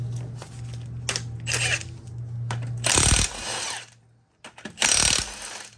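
A wrench works the lug nuts loose on a 2015-2022 Ford Mustang wheel using a 21 mm socket, giving bursts of mechanical ratcheting and whirring over a steady low hum, with short pauses between the loud spells.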